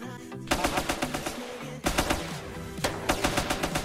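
Rapid bursts of automatic gunfire in a roleplay heist video game, loud and close, with two long rattling volleys of fast rhythmic shots separated by a brief pause.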